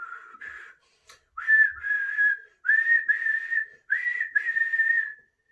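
A storyteller's voice imitates a butcher whistling, in four bright, clear phrases separated by short pauses, heard close and alone.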